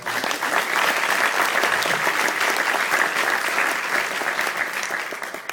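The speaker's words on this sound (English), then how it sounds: "I'd just like to ask everyone to give them a big round of applause" An audience at a university science lecture in San Diego breaks into steady, sustained applause, a dense wash of many hands clapping evenly throughout with no talk over it.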